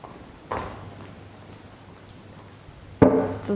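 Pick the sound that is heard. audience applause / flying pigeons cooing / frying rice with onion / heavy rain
heavy rain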